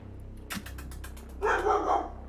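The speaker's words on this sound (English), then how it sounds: "What are you barking at?" A dog at home barks in a fast run of short sharp yaps, then gives a louder, fuller bark burst nearby.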